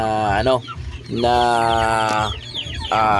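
A nearly five-month-old laying hen clucks and squawks in a few drawn-out, nasal calls close by, with short pauses between them.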